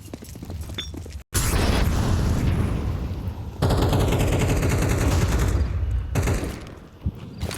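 Gunfire and a grenade blast in Counter-Strike during a pro match on Inferno: dense bursts of rifle shots, a sharp cutoff, then sustained loud firing and booming, sharp tail thuds at the end, no voices.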